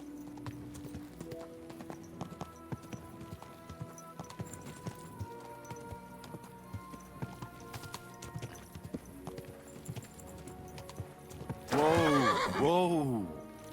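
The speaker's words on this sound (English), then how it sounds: "Easy, good horse." In the medieval game Kingdom Come Deliverance 2, a horse's hooves clip-clop in a steady walking rhythm, then a loud, close whinny rises and falls near the end while someone talks at times.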